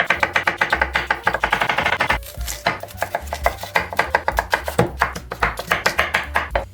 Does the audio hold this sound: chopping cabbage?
yes